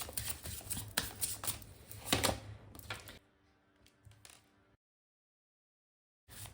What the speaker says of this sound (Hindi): आपके सामने ही मैं कार्ड शफल करके ले रही हूं